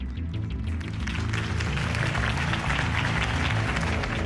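A large crowd applauds and cheers steadily in a video game, loud and dense throughout with no pauses.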